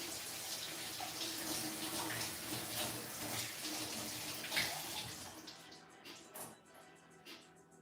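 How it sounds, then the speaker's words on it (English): Water runs steadily from a tap while hands are washed, a continuous splashing hiss that breaks up into softer, uneven trickles and splashes as the flow eases off toward the end. "Let me wash my hands."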